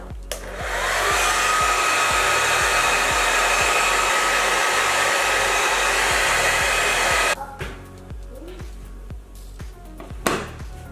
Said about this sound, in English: Then I'm gonna go over this with my blow dryer so that it will basically dry up.